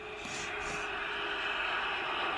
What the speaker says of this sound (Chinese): 哇，这是飞机引擎的声音。